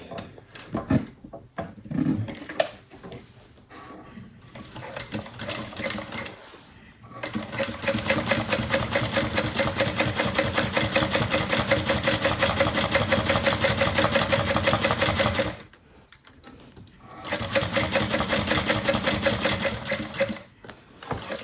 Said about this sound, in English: So 1/8 of an inch away from the fold. We're going top stitch.